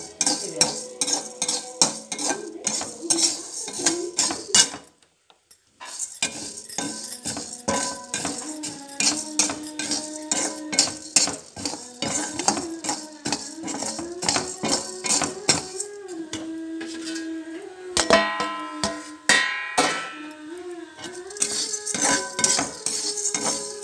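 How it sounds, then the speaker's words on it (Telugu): Urad dal and chana dal roasting dry in a pan, stirred continuously with a metal spoon that scrapes and clinks against the pan in quick repeated strokes, close and clear, with a brief pause partway through. "ఉద్దిబేడలు బాగా వేగిన తర్వాత శనగబేడలు వేసుకోండి. కమ్మగా వాసన వచ్చే వరకు వేయించుకోవాలి."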